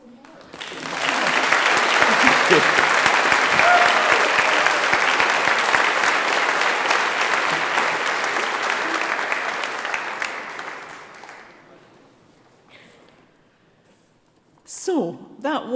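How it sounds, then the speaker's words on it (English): An audience at an awards ceremony breaks into sustained applause that builds quickly, holds steady for about ten seconds, then thins out and fades, and a voice starts speaking just afterwards. "We have a big round of applause for Mark"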